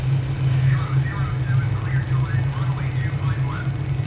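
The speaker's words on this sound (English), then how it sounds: "It's a warning about an engine cutout" Engine cutout warning tone in Microsoft Flight Simulator, a repeating warbling alert cycling about every half second over a steady low engine hum, loud and continuous.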